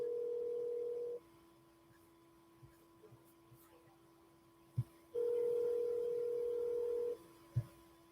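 Telephone line tones sound while cold calling expired real estate listings: two long, steady tones separated by a quiet pause, with faint clicks in between.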